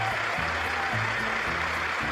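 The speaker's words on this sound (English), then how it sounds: "Congress clapped like seals again for him" Members of Congress applauding a speech in the chamber, a dense, steady wash of clapping from a large crowd that continues without a break and then cuts off.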